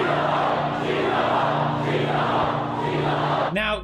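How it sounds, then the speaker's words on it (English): A large crowd at KSI's stage show chants loudly and steadily in a dense, roaring mass of voices. The chant continues for several seconds, then a short electronic warble ends it. "when KSI made the crowd chant profanity about Logan's ex on stage"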